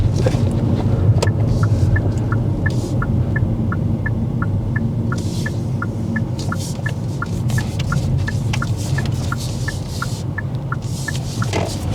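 A car driving along during a driving lesson, a loud steady engine and road rumble with a regular ticking indicator clicking through most of the stretch, and no talk over it.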